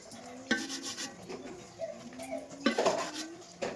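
Pitha rice cakes cut on a plate or board, soft knife scrapes and rubbing strokes with occasional louder clinks of metal against dish, close and quiet.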